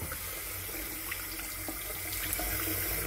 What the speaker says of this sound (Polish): a właśnie leci woda